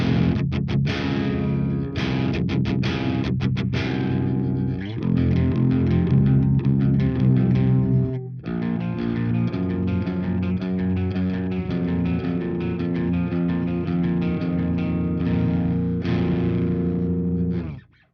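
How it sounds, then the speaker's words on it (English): An 8-string guitar through the green channel of a Victory Kraken V4 amp, without clean boost, plays heavily distorted low chugging riffs with brief stops, loud and alone. "this is how the green channel sounds without the"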